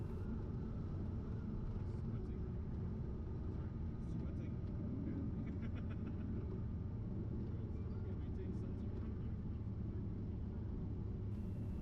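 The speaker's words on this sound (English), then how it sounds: "I'll exit the runway by the first available taxiway and head over to our parking at Yankee 5." A small training airplane's engine rumbles steadily from inside the cockpit as it rolls off the runway after landing at Tallinn, a constant low drone with faint clicks, while the pilot talks over it.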